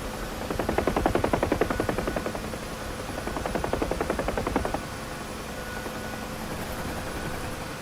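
A Huey UH-1H helicopter in the DCS flight simulator thumps along with a rapid, steady rotor chop over a constant turbine whine, the blade beat loudest early on before settling to a smoother drone.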